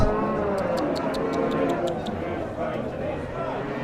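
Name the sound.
cow mooing at livestock market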